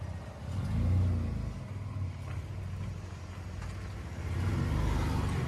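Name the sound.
Ford engine revving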